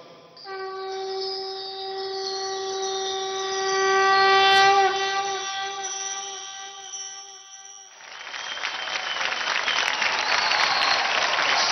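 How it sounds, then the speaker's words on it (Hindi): Studio audience applause at a televised dance competition show, a broad steady clapping wash that swells after a sustained musical chord fades out around the middle and then continues loud and dense to the end. "जोरदार तालियां हो जाए"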